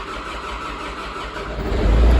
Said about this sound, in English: that cranked over way too long. It should have just fired right up.